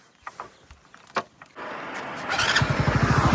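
A sensor-equipped motorcycle starts up: a few light clicks and taps, then the engine catches with a sudden roar and settles into a close, steady, pulsing idle that grows slightly louder.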